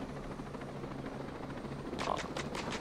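A helicopter in the Ghost Recon Breakpoint video game, a steady distant rotor drone that briefly swells with a few sharper pulses near the end, no talking.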